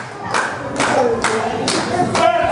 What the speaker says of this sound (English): You hear all the little Muppets clapping in the background